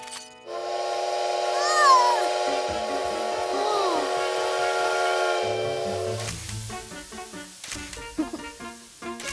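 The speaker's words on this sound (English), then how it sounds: "A train!" A cartoon steam train's whistle sounds in a long, bright, sustained tone with a hissing edge, rising briefly and fading after several seconds into background music.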